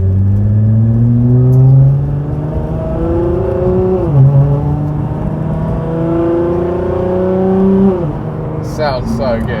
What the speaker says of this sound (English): So this is our custom 4-inch straight pipe exhaust system.